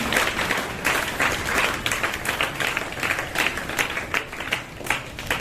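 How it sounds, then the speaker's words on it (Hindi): Audience at a school function in Bhusawal gives a hearty round of applause for a distinguished guest; many hands clap loudly and continuously, with distinct sharp claps standing out in the close, full crowd sound. "जोरदार तालियां"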